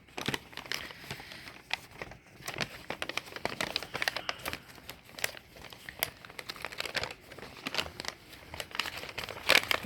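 Crinkling and tearing of the seal on a Sony earbuds box, a continuous close run of papery crackles and rips over about ten seconds, with no voice.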